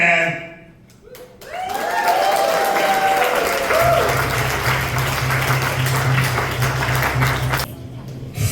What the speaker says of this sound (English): Keep it going for PA Hitman